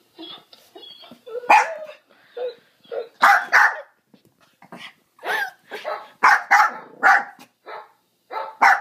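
A dog barks repeatedly up close, loud sharp barks in an uneven run with occasional growly whines between them.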